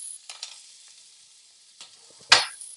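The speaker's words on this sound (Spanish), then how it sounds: "le voy a agregar el agua con el vinagre" Water mixed with vinegar poured into a pan of vegetables in hot olive oil, giving a couple of short sizzling bursts, the last one loud and sharp, between quieter stirring sounds.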